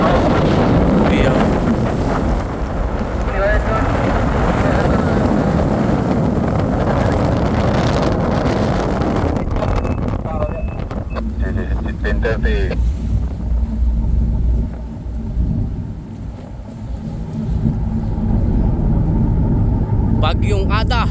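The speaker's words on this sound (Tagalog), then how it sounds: "Bagyong Ada. Grabe ka Ada. Ang lakas mo Ada." Typhoon-force wind roars at sea aboard a tugboat towing a barge, a loud continuous buffeting rush and microphone wind noise with surging gusts throughout, while people talk over it.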